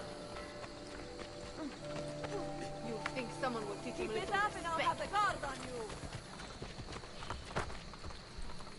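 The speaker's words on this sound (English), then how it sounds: "Let's go steal a horse." A horse gallops in the Assassin's Creed Brotherhood video game with rhythmic clip-clop hooves, set against game music and effects. A voice speaks over the hoofbeats.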